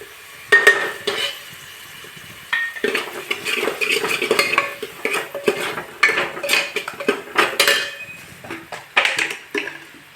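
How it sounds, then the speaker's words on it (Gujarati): A metal spoon stirs and scrapes a pan as tomatoes go into frying onions with chilli for village-style Gujarati moong chana dal, giving repeated clattering utensil knocks over a faint sizzle, close and fairly loud. "હવે નાખી દઈશું ટામેટા"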